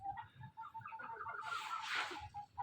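Young chicks kept with laying hens cluck and peep softly in a small coop, with short chirps repeating and a brief rustling flurry midway, heard close but quiet.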